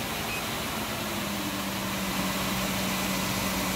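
Ride-on wet floor scrubber S12 with its motors running, a steady droning hum with a faint tonal whine, continuous and close with no talk over it.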